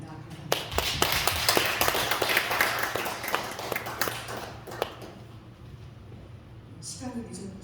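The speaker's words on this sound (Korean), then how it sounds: "하나님께 감사와 영광의 박수를 한번 드렸으면 합니다" Congregation members at a church retreat clap in thanks and glory to God, the claps sparse and uneven rather than a full ovation, with a voice heard toward the end.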